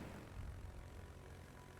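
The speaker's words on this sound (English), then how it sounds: "Fighter airborne." A fighter plane launches in the naval combat game World of Warships, giving a steady, droning propeller-engine rumble that holds at an even level for the whole stretch with no voices over it.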